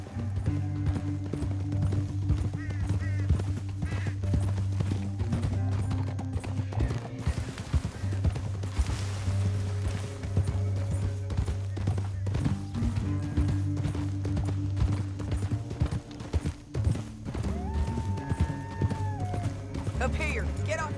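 Steady clip-clop of horse hooves trotting in Red Dead Redemption 2, rhythmic, close and continuous, with a horse briefly whinnying near the end.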